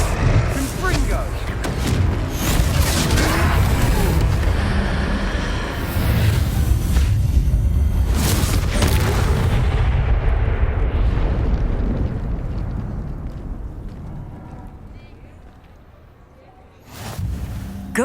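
Fire-spell explosion in the Hogwarts Legacy video game during a troll fight: a loud, sustained fiery roar that slowly fades, then a fresh burst near the end.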